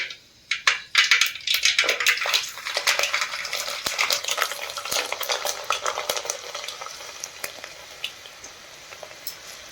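Mustard seeds and garlic crackle and pop in hot oil for an onion curry, sharp rapid snaps bursting loudly at first, then thinning into a steady sizzle with occasional pops.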